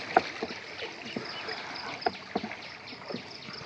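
A small boat moves through floodwater covering a road, with soft splashes and water lapping and occasional knocks against the hull, fairly quiet and close, with light wind noise.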